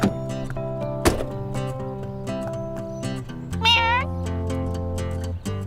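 A cartoon cat meows in several short, rising and falling calls that stand alone, with steady background music and a brief door-like thump from a children's animated show.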